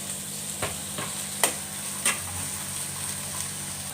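Vegetables for a pulao, with a single potato among them, fry quietly in a pan as a steady low sizzle, broken by a few sharp clicks and scrapes of stirring.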